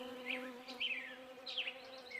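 Bees hum steadily at an apiary, heard as a fairy-tale sound effect. The drone is soft and continuous, with small rising chirps over it.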